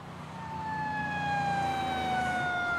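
An emergency vehicle siren wails steadily, a clear rising-falling tone that swells from moderate to loud against a low traffic rumble.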